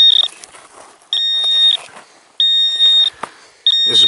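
Loud high-pitched electronic beeps from a metal detector sound in repeated long bursts with short gaps between them, up close, without speech.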